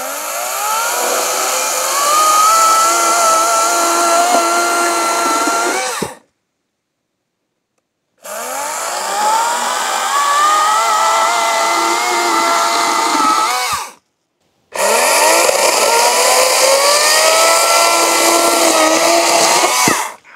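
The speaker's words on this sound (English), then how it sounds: "It cut through that log with such ease." A chainsaw cuts through a log in three long, loud bursts of high engine whine, close by, with short silent gaps between the cuts and no voices.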